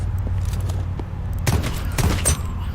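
Gunfire in the Halloween Ends video game: a few muffled shots crack over a low rumbling background of game sound, without voices.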